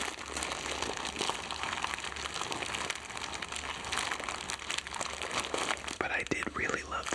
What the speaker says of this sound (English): Next up, I have this bag of coffee beans.